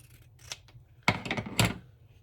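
Scissors snip through material for the hinge of a journal cover, giving a few crisp close cuts in quick succession against a quiet room.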